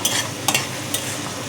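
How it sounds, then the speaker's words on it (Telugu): Onions frying in oil with turmeric in a pan for egg curry, a close steady sizzle with a few brief stirring scrapes over a short moment. "ఆనియన్స్ మంచిగా ఆయిల్లో ఫ్రై అయినాయండి"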